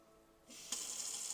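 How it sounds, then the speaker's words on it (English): Tap water begins running into a pot of rice for rinsing, a steady close hiss that starts abruptly and then strengthens into a full stream, alone with no voices. "Turn on my water. I got my pot of rice."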